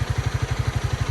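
A 2021 Honda CRF300L Rally motorcycle's single-cylinder engine thumps in a rapid, even pulse while riding, loud and close, with wind and road noise over the throbbing exhaust.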